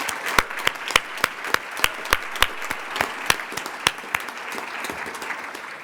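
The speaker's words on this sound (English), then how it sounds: "Let's have one more round of applause for incredibly talented students who show us the world through their artistic lens." Sparse applause at the New York State PTA annual convention general session honoring student artists: distinct, sharp claps ring out at a fairly even pace over a quiet room hum, like only a few people clapping.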